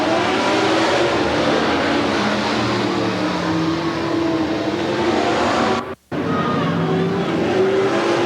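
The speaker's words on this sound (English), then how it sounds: "85 Muller spins out over in turn number 2, and that brings out another yellow flag." A race car spinning out at the 1991 Willamette Speedway: a steady roar of engines and tires across the track, loud and continuous, broken by one brief cut-out near the end before the noise resumes.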